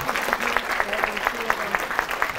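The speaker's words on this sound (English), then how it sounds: "And so a round of applause definitely goes to her." A women's club gathering breaks into a short round of applause, scattered claps rising over a murmuring room with a voice partly audible underneath.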